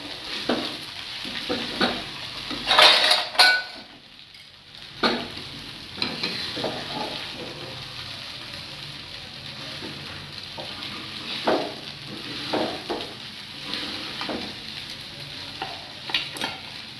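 Soaked sabudana is sautéed in a pan, and a spatula scrapes and stirs it repeatedly over a soft frying sizzle, with a brief quiet gap early on, then steady, close stirring strokes.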